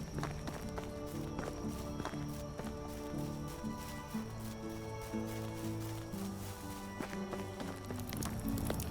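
Footsteps of a character running on foot in the medieval survival game Medieval Dynasty, a steady rhythmic patter of quick strides kept up throughout over game music, with no talk.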